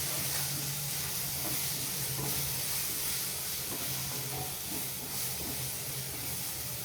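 Finely chopped onions sautéing in a pan, a loud, continuous sizzle and hiss that holds steady throughout with occasional soft stirring noises and no talking.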